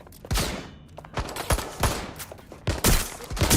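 An active shooter opens fire in Watch Dogs Legion, with several sharp, loud shots and short rapid bursts spread unevenly over a few seconds and no talking.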